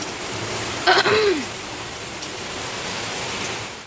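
Heavy rain pours steadily over a flooded road where water runs along the street, a continuous hiss lasting the whole stretch, with a short vocal sound rising briefly above it near the start.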